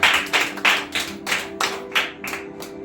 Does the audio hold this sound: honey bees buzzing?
no